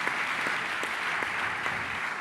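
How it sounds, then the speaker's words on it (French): An audience at an awards ceremony claps in a brief, moderately dense burst of applause, heard from a distance and fairly soft. "Oui, on les applaudit."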